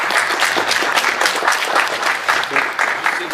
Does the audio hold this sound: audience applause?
yes